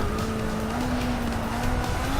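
A Ferrari California T racing at Laguna Seca in Forza Motorsport 6 holds a steady, close engine drone with a slowly rising pitch, loud and uninterrupted throughout.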